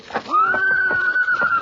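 A horse whinnies as a radio-show sound effect, one loud sustained neigh with a rising then wavering cry, heard close and alone without talk.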